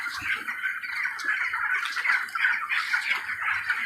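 Dense flock of chickens clucking and squawking on a hot poultry farm where coolers and fans run, a continuous overlapping chorus of close, busy calls with no talking.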